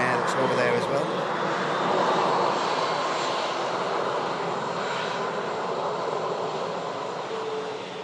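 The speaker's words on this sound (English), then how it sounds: "That was a really nice touchdown." An airliner lands at Manchester Airport during Storm Lilian with a loud, broad jet-engine roar that swells and then slowly fades as the aircraft rolls out.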